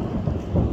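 Heavy rain pours down with a deep rumble of thunder during a road trip near Dieng, Central Java, as a dense, steady roar fills the whole moment, close and loud.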